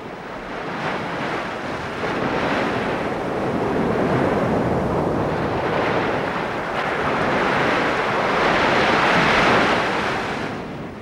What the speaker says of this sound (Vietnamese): Sóng lớn quá, dường như trời sắp có bão.